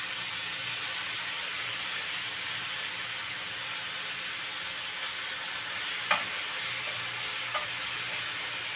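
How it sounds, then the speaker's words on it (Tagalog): Bacon sizzles in a frying pan, a steady close hiss of crackling fat with a couple of faint clinks and no talking. "Bango pang luto yung bacon."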